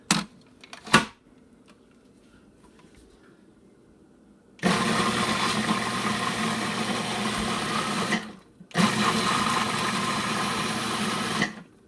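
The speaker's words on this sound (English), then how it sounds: "I like to use the pulse because any solids can sink back down, get caught by the blades again" A blender pulses a soy sauce and cilantro chicken marinade: two loud whirring bursts of about four and three seconds, split by a short pause, after a few faint clicks of the lid going on.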